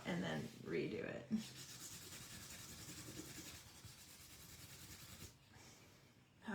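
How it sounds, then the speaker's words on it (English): Steady soft rubbing of a finger smearing oil pastel across paper, a continuous dry scuffing that runs for several seconds between quieter moments. "Let me rub that out and then redo it."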